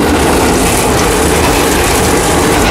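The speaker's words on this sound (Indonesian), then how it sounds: "kayaknya ya kereta lewat mulu" A train passes close by a roadside spot in Indonesia, producing a loud, continuous rumbling roar with a steady rattling texture that fills the whole moment without letting up.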